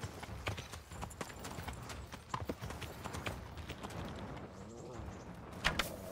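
Horse hooves clip-clop at a steady walking rhythm in the medieval game Kingdom Come: Deliverance, quiet and fairly close, with faint bird calls and ambient outdoor sound around them.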